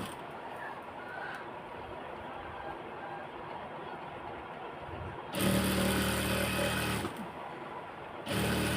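A sewing machine stitches a kameez sleeve, its motor whirring in two loud bursts over a steady background hum.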